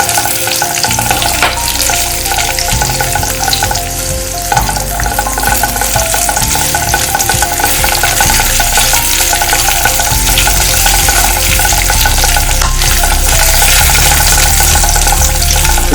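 Dried fenugreek leaves (kasuri methi) with chillies fry and get stirred in oil in a pan, giving a loud, steady sizzle with scraping stirs throughout and no talk.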